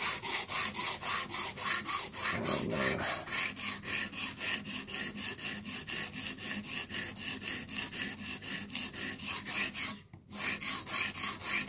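Knife blade stroked diagonally across a sharpener in a steady rhythm of rasping scrapes, about four per second, close and clear, with one brief pause near the end.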